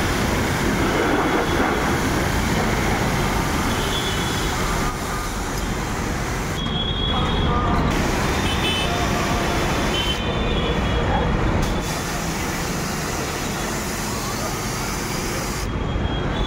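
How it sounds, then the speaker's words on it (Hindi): A 300 bar triplex plunger pump driven by a 3 HP Godrej motor, a heavy commercial washing machine, running with a loud, steady mechanical roar and grinding rumble throughout, with some faint background voices. "3 HP गोदरेज मोटर, 300 bar का प्लंजर पंप"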